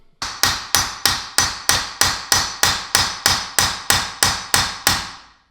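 A metal punch is struck with a hammer to drive an axle out of a wheel hub, about thirteen sharp, evenly spaced ringing blows close up, each decaying briefly before the next.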